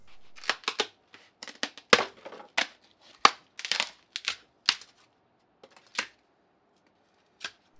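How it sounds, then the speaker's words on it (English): Crisp crunching and crackling bursts come in uneven clusters as stiff foam is broken and pulled out of a concrete mold close by, with quiet gaps between. "while you enjoy the sounds of me removing this foam"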